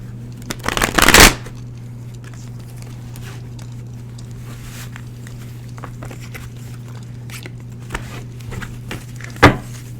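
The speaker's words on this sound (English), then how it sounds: "Let me shuffle real quick." Tarot cards are riffled in one loud burst early on, then quiet handling and a sharp flick near the end over a steady low hum, with no talk.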